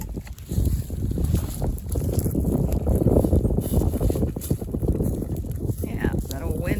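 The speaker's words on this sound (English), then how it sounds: "that old wind picked up, so it might be a little harder" Loud, rough wind gusts buffet an outdoor spot beside a fire, roaring continuously with a faint crackle beneath.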